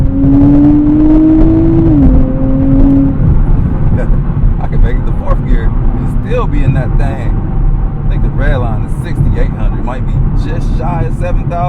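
A 2024 Nissan Z Nismo accelerating hard through the gears toward a 7,000 rpm redline. Loud rising engine notes are cut by shift drops, with someone talking through the pulls.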